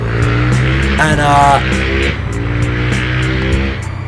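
A supercharged Nissan 370Z drift car roars close and loud, its engine revving up hard with a rising whine, while a voice talks briefly over it.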